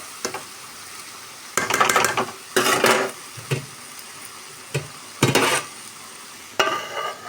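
Cabbage fries in oil while being stirred, with bursts of sizzling and scraping from a spoon against the pan in several separate strokes over a quieter background hiss.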